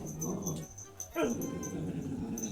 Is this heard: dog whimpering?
yes